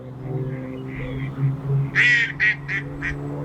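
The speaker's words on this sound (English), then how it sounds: "Loads of quacking ducks about." Ducks by a lake where someone is carp fishing at Woodlands Water give a short run of about four nasal quacks in quick succession, fairly close and clear over a steady low hum and quiet outdoor background.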